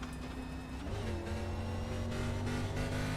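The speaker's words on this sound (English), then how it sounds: "Hear him get back into the throttle to keep the car down there in the grass." A race car in a sim racing video game on Kentucky Speedway, its engine droning steadily and then rising in pitch as the throttle comes back on, a loud continuous whine with no talk over it.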